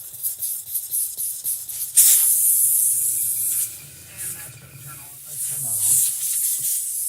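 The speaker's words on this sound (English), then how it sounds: "Now the hose is going to make some noise." Compressed air hisses loudly from a disconnected 1/8-inch hose coupling, a broad steady rush that rises abruptly, dips and swells again over several seconds, with faint low rumbling beneath.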